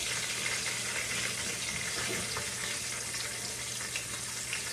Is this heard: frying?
yes